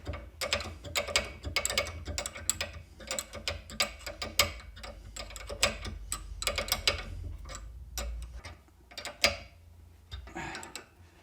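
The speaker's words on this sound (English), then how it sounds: "I just unscrew the bolt and push it apart" The lock bolt on an MGB front shock absorber is turned by hand, giving a close, quiet run of rapid ratcheting clicks and metallic ticks with brief pauses.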